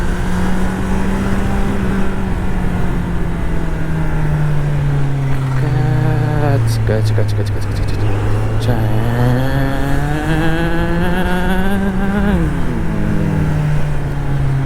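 A Kawasaki Z900 motorcycle with its stock exhaust rides slowly through traffic on a city flyover, its engine droning loud and close with a steady hum that rises and falls as the throttle opens and eases.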